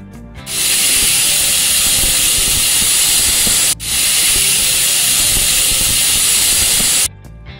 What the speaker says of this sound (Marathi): दोन शिट्ट्या करून घेऊया।